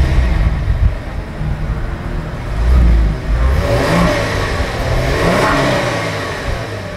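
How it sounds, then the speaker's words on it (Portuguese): A Kia Stinger with a 370 hp V6, at a race track, revs hard in a sustained, loud, close run of engine roar that swells and falls with the throttle, with no talk over it. "Temos ali à frente a trabalhar um V6."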